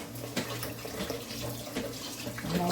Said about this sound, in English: And I'll just wash it straight from the pot.